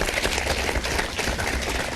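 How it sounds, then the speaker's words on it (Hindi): Applause from a television studio audience, a dense continuous patter of many hands clapping at a fairly even level with no voices above it. "तो आई थिंक आफरीदी के लिए मैं तालियां बजाऊंगा"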